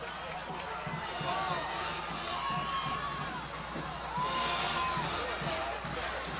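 Crowd in the stands at a high school football game between Effingham County and Bradwell, a steady broad roar with scattered shouts running the whole time beneath commentators talking.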